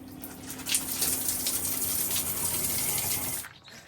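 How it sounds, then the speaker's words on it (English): Hot shower running inside a camper van, a steady hissing spray of water that stays loud and even for several seconds, then cuts off abruptly near the end. "Well, that was a great shower. It was hot and watery."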